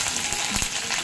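Curry leaves sizzling in hot oil along with black mustard seeds and two dried red chillies, tempering for idli chutney: a steady, close, broadband hiss and crackle throughout, with no voices.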